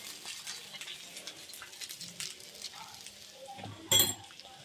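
Sardine (mathi) fish frying in a pan with a steady low sizzle and light utensil clinks, ending in one louder scraping clatter near the end.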